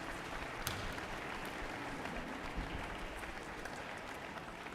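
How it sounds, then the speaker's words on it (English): A school concert audience claps for a student music group, a steady, fairly distant round of applause with scattered sharper claps, continuing evenly at low volume. "So give that last group a round of applause"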